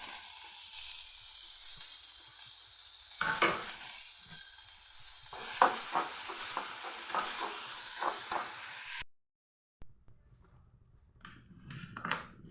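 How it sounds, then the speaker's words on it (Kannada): Onions with green chillies and mustard seeds fry in oil in a pan while being stirred, a close steady sizzle with repeated scraping stir strokes, a brief silence, then the sizzle resuming; no speech. "ಈರುಳ್ಳಿ ಚೆನ್ನಾಗಿ ಸ್ವಲ್ಪ ಬೆಂದಿದೆ ಎಣ್ಣೆಯಲ್ಲಿ"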